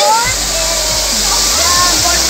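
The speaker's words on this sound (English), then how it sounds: "this is a fountain" A fountain waterfall in Shakarparian National Park, Islamabad, pours and splashes with a loud, constant hiss of falling water, while faint bird chirps sound in the background.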